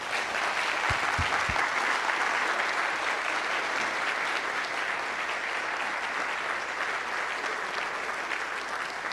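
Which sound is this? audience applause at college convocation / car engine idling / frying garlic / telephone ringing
audience applause at college convocation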